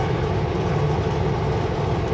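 Close, loud rumble of a passing CPKC freight train, railcars rolling by with a dense steady roar and faint rhythmic clatter.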